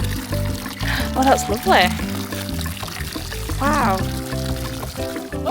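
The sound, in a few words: hot spring water pouring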